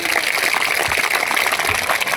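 Dense, steady clapping from a large audience applauding scouts after a cultural program, a continuous roar of hands that stays loud and even throughout.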